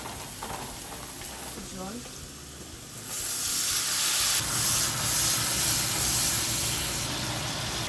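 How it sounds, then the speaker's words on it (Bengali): Ginger garlic paste frying in a pan: quiet kitchen background and a few faint sounds give way to a loud, steady sizzle and hiss that continues to the end. "তারপর আদা রসুনের পেস্ট দিয়ে দেবো একটু ভাজা ভাজা"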